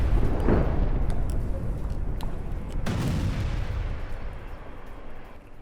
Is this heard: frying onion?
no